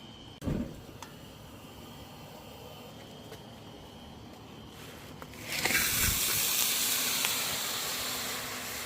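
A propane burner on an outdoor disco cooker ignites with a faint click, then a broad, steady roaring hiss of gas flame takes over and holds close and even.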